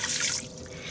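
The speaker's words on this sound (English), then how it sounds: "I'm going to put in 1 cup of water," Water poured into a pot fitted with a steamer basket for broccoli, a short, close hissy trickle that eases off partway through, with no talking.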